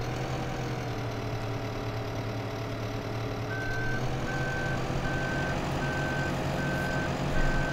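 A New Holland telehandler in Farming Simulator 2015 idles with a low engine drone, then begins a regular series of evenly spaced reversing beeps that repeat steadily over the running motor.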